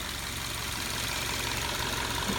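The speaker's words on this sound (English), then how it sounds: "Engine's running" A 2015 Subaru Forester engine idles steadily, a low, even hum with a faint rhythmic knock and no other sounds over it.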